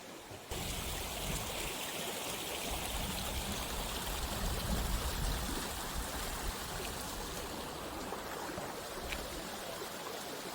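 Clear spring water from the hills runs steadily in a continuous broadband rush, close and even throughout, with no voices.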